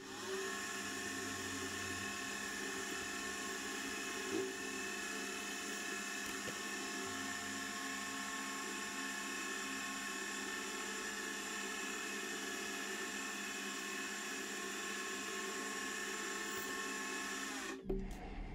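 An 8mm cutter mills counterbores 4.5mm deep into metal on a machine fitted with a boring and facing head, giving a steady, even, moderately loud machining whine that continues unbroken before stopping abruptly at the end.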